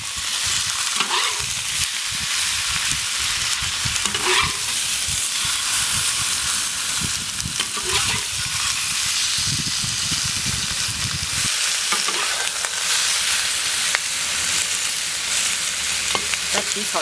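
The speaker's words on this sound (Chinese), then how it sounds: "皮朝下煎一煎" Pork belly sizzles skin side down in a hot oiled wok, a loud continuous frying hiss with repeated scraping stirs of a spatula against the pan.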